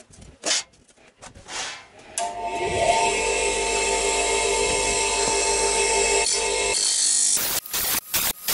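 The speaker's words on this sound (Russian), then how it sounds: "Зажимаю пластины струбцинами и шлифую их от ржавчины." A power tool grinds rust off steel plates clamped down for a glazing and skylight insulation job, running loud and steady for about five seconds after brief handling knocks, then stopping.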